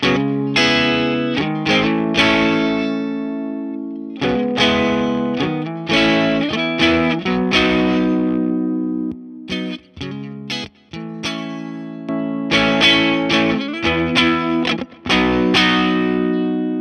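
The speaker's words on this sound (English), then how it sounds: "There's something about the tone in this distortion that I never really liked." An electric guitar plays chords and riffs through a simulated overdrive pedal in AmpliTube 5, the tone gritty and sustained with brief pauses between phrases.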